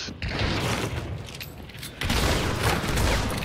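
Gunfire in Hunt: Showdown comes as a loud, close burst of sharp cracks and booms with metallic mechanical clatter between shots. It runs densely over a few seconds with no clear talk.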